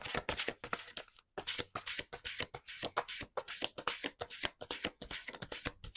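Tarot cards are shuffled and drawn close by in rapid papery riffling bursts, with one short pause before the shuffling picks up again.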